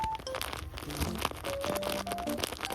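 A homemade paper squishy toy stuffed with tape, squeezed close up to give soft plastic-like crinkling and crackling, with faint tonal background sounds throughout.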